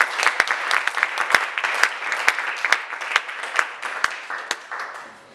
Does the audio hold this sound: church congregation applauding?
yes